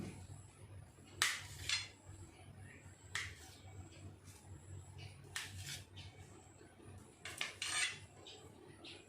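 A knife slices through an Oreo biscuit roll cake on a board, giving four spaced clusters of crisp cutting and tapping sounds over a low steady kitchen hum.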